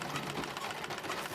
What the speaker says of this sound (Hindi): जब ये मुड़ती है तो सिलाई मशीन खुद ब खुद चलने लगी